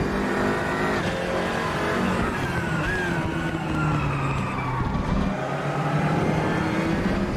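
Simulated race car engine from a racing video game at Motegi, droning steadily and revving through a corner exit and down the straight in first gear, constant and close.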